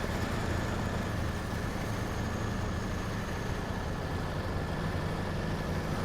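A truck's upgraded engine labours up a hill in the video game SnowRunner, giving a steady, loud, low droning rumble that holds constant throughout with no talk.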